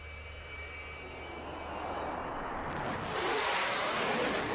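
A B-1 bomber makes a high-speed low pass at about 500 feet and 0.9 Mach, its jet roar building steadily from a distant rush to a loud, broad, close blast over a few seconds.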